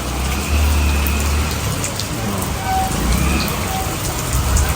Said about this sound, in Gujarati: થોડો વરસાદ ચાલુ થઈ ગયો